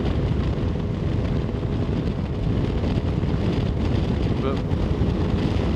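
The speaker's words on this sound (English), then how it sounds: "that wind is a killer" Strong wind buffets the microphone in a dense, steady low roar that covers the whole clip, with a brief spoken word barely audible under it.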